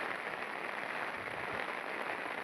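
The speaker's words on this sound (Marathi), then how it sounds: "पाऊस लागत आहे" Steady rain falls during the rice-transplanting season, a faint, even, continuous hiss with no voices.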